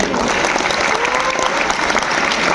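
A crowd bursts into loud, sustained clapping at a Teachers Day prize-giving as a student is called up for an award, the applause steady and dense from start to end with faint voices beneath.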